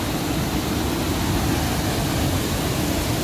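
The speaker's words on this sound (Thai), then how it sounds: "สภาพน้ำตกก็อยู่ประมาณนี้คือน้ำตกแสนจอง" Water rushes steadily at Kaeng Song waterfall in Wang Thong, Phitsanulok, Thailand, a broad, constant roar that fills the air with no pauses or other sounds.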